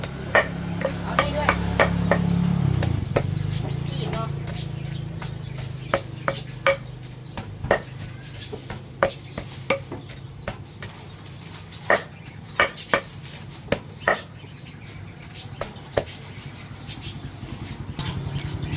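Mackerel fish pounded in a mortar for a Thai fish curry sauce for rice noodles, a series of sharp, close thuds at irregular intervals, with a low rumble and brief speech near the start.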